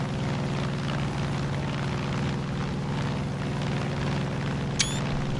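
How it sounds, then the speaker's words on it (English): A seaplane engine drones steadily in flight in Far Cry 5, a continuous low hum with a brief high chirp near the end. "how do you land a seaplane on land?"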